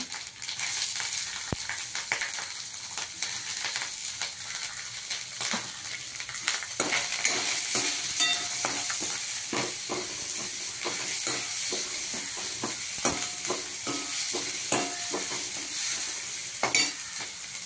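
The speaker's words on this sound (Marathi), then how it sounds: "कांदा टाकला, परतून घेतला." Chopped onion sautés in a hot pan for a cauliflower and potato vegetable dish: a steady bright sizzle runs throughout, broken by frequent clicking scrapes of a spoon stirring against the pan.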